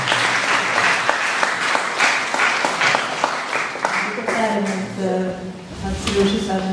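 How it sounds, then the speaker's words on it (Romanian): Audience applause at an autumn art event at a cultural centre, a dense steady patter of many hands that carries on as a voice starts talking over it in the second half. "aplauze pentru dragul nostru talentat"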